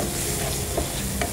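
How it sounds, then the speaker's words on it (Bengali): Onions frying in a pan give a dense, continuous close sizzle with light stirring scrapes over a brief stretch, and no one speaks. "পেঁয়াজটা ভেজে নিলাম"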